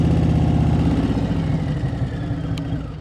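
A motorcycle engine idles with a steady low, throbbing pulse during a slow, tight turn, holding close and even with the clutch near the friction zone and the rear brake in use, and one brief click partway through.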